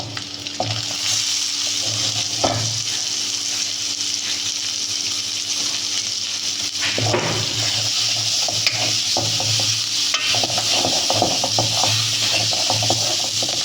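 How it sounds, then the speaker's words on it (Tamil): Small onions (shallots) frying in coconut oil for Kerala chicken kondattam make a loud, continuous sizzle, with stirring scrapes throughout and brief bursts of stronger crackle. "இப்போ வெட்டி வச்சுருக்க சின்ன வெங்காயத்தை ஆட் பண்ணிப்போம்"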